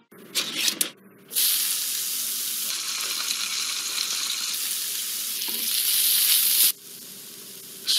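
Spam pork slices fry in a hot pan with a steady, loud sizzle and hiss that rises slightly before cutting off, after a short clatter at the start; no talking.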